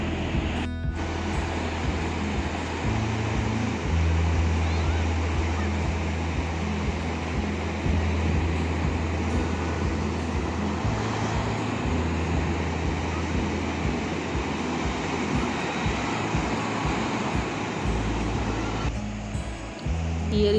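Ocean surf washes continuously onto a clean beach where children play in the water, a steady loud roar of breaking waves mixed with wind noise across the microphone.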